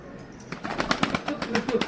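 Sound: pigeons cooing and flapping

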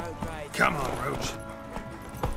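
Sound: horse hooves, Geralt's horse Roach in The Witcher 3 video game

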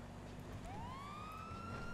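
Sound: police car siren in a video game roleplay

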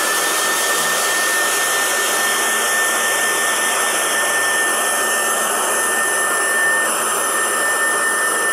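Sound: hair dryer drying paint on a wooden coat rack

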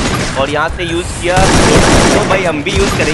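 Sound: gunfire in video game Garena Free Fire

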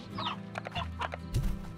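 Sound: chickens (hens) clucking in the video game Slime Rancher

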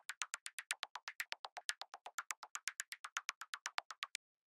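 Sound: clicky drum sound: white noise through bandpass filter

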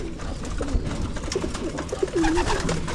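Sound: pigeon cooing

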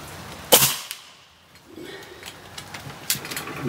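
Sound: rifle gunshot

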